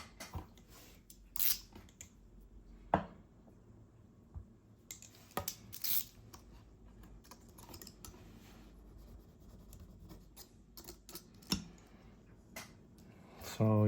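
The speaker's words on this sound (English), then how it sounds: "Maybe I have to cut around the metal ball a little bit." Scattered short snips and scratchy cuts around a metal ball set in a homemade balisong insert, irregular and close, with quiet pauses between bursts and no talking.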